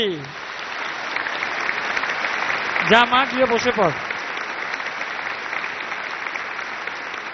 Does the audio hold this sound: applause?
yes